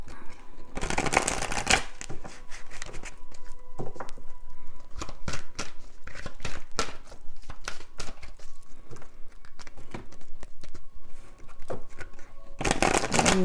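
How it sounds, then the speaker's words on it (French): A deck of cards is shuffled by hand, with loud riffling bursts at the start and end and a run of close, crisp flicks and slaps in between. "Je vais bien mélanger le jeu quand même."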